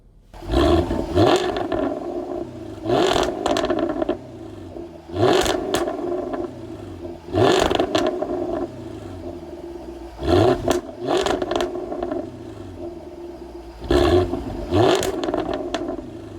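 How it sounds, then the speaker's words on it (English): A Jaguar F-Type's exhaust revs in about six loud, close bursts at roughly regular intervals. Each roar climbs and falls back to a lower idle rumble between blips. "I want to give a little sample for those folks out there that think that exhaust sounds aren't a thing of beauty"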